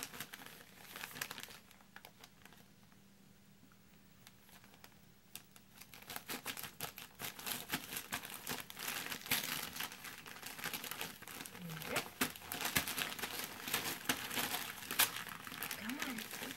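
Wrapping paper being ripped off a Christmas present on Christmas morning, with repeated crinkling and tearing bursts close by and people talking over it.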